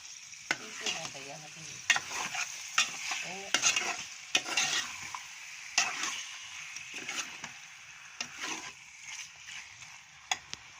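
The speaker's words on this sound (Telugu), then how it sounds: "ఇప్పుడు చికెన్ వేసుకుంటున్నా. బాగా కలుపుకోవాలి." Chicken pieces sizzle in a pan of fried spice paste while a spoon stirs and scrapes repeatedly in an irregular rhythm, the hiss steady underneath and the clattering strokes standing out close by.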